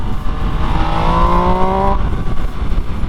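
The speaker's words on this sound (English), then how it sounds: "The exhaust has a nice refined note and feel to it." An MV Agusta Dragster motorcycle's exhaust note rises steadily in pitch as the engine revs up after a downshift to second gear, a continuous throaty drone with no talking.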